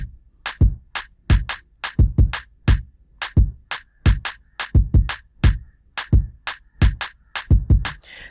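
Afro bongo instrumental beat made in FL Studio, with punchy low kicks and a newly added sharp clap repeating over them in a quick, swung groove, loud and steady with no talking.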